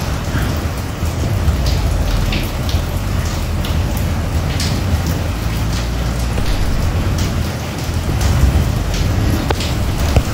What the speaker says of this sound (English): Okay, we're finally getting some rain here.